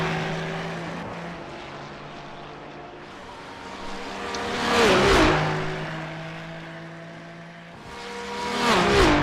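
Race cars accelerate during an enduro race on cold tyres with full fuel, with engines droning at a steady pitch while two pass-bys swell loud and sweep past in turn, heard without talk.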